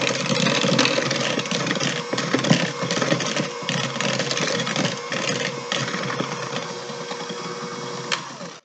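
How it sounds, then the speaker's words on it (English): An electric hand mixer creaming chocolate chip cookie dough gives off a steady, loud motor whir with a rough, rattling texture, running without a break for several seconds and no talking. "I love my hand mixer."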